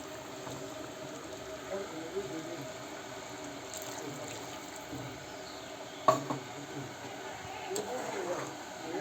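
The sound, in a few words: water poured into cooking beef for boiling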